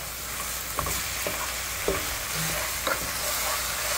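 Vegetables stirred and fried in a pan for sausage spaghetti, a continuous sizzle with a few soft clicks and scrapes of a utensil moving the food, no voices.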